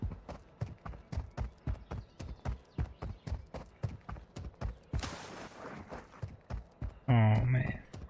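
Donkey hoofbeats in the Warzone Mobile shooter game, a steady run of clip-clop strikes across the whole stretch, fairly loud, broken near the end by a brief burst of noise and a higher whinny-like tone.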